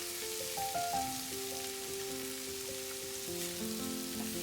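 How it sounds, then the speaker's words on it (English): Beetroot and peanuts fry with spices in a pan as a soft, continuous sizzle with faint crackles, heard close. Quiet sustained musical tones play underneath. "Fry the beetroot for a couple of minutes."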